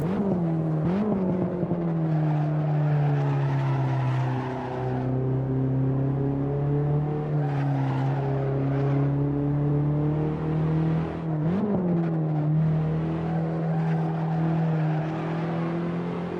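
A BMW M3 or M2 engine in a racing game, a steady droning hum at constant revs with slight pitch wobbles, loud and close, with no voices.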